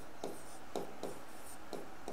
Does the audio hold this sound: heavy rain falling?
no